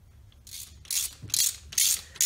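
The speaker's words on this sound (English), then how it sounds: "socket to help me spin them in." Close, dry clicks of a socket ratchet spinning bolts into an Ashcroft ATB centre-diff transfer box, coming in four quick bursts of ratcheting with short pauses between them.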